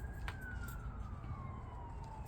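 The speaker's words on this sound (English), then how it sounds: "Oh, a siren." A distant emergency siren wails faintly with a slowly falling pitch, heard through a steady indoor background hum.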